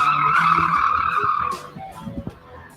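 Car tires squeal loudly in a sustained skid during police driving training for about a second and a half, then fade out into engine noise and a few thumps.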